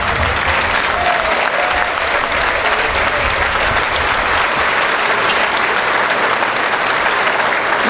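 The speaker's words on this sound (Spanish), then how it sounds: "disfrutarles un fuerte aplauso a mis compañeras" Loud, sustained applause from a large crowd at an anniversary celebration for wives of retired oil workers, steady and dense throughout with no pauses.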